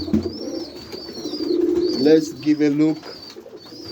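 White pigeons coo in a loft, low throaty rolling calls close by, while someone speaks briefly over them and a thin high whistle sounds in the background.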